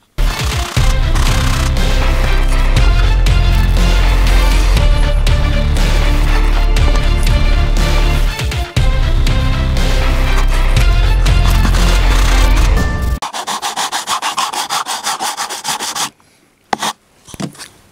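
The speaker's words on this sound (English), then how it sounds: "I used the sander" A power sander works on balsa fuselage parts of a Bellanca Decathlon model aircraft, a loud steady abrasive rasping with brief breaks, then it stops and lighter scraping and a few taps follow.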